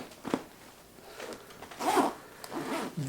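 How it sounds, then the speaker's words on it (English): Zipper on a Kokatat Leviathan PFD pocket pulled open and closed in several quick, close rasping strokes, with short pauses between them and no talking. "how they zip and then zip back"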